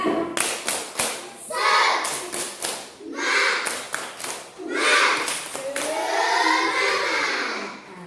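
Schoolchildren in an Indonesian classroom stand and perform a rhythmic spirit clap, bursts of sharp patterned claps alternating with short chanted children's voices, loud and close throughout.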